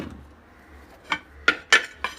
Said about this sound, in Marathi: हा तवा आपण घेतो आता